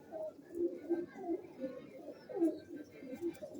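Pigeons of an old bred line coo steadily and close by in soft repeated low throaty phrases, with a voice talking faintly underneath.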